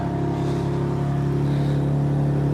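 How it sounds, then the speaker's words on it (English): A 2021 BMW M3/M4 engine idles and is revved, giving a steady, fairly loud mechanical drone with a slight rise partway through, and no talking. "Yuri's gonna give it a rev"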